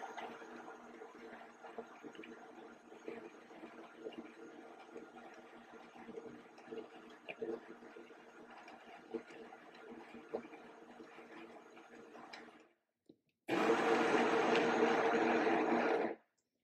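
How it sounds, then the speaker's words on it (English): A Sincreative CM5700 espresso machine's built-in grinder grinding coffee beans, a loud, dense burst of mechanical whirring that starts abruptly after a quieter stretch of background hum and runs steadily for a few seconds before cutting off. "So we're going to start grinding."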